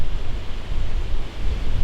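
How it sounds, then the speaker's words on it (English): Strong, continuous wind buffets the microphone with a deep, rumbling roar that swells and dips throughout, at a field edge during a Pennsylvania archery whitetail hunt. "But it is windy today, as you can see."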